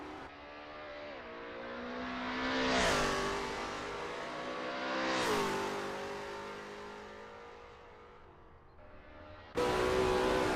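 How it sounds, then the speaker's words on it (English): Lola T70 MkII Spyder race cars at Bathurst in a racing video game: two loud engine roars sweep past in quick succession, rising and falling in pitch, followed by another car's engine cutting in abruptly close by. "There's not much better than sitting near here and watching the cars speed by."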